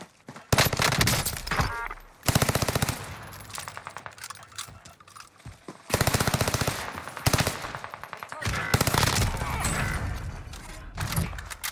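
Enemy rifle and machine gun fire in Call of Duty Cold War, loud rapid bursts in several clusters across the span, close and harsh with brief lulls between volleys.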